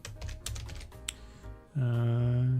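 Fast clattering keystrokes on a computer keyboard fill the first part, loud and close, before a loud, steady humming tone abruptly takes over.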